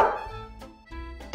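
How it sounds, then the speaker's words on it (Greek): A grandfather's dog gives a few short, close barks and yips in quick succession, loud against a quiet background. "Παίζω με τον Βίκτορα, το σκύλο του παππού μου"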